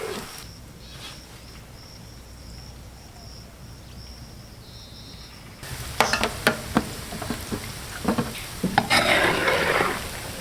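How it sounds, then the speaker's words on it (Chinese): Meatballs dropped into moderately hot oil in a wok, quiet at first, then bursting into loud crackling sizzle with sharp spattering pops as they fry. "5成油的下丸子， 尽量大小均匀的哈"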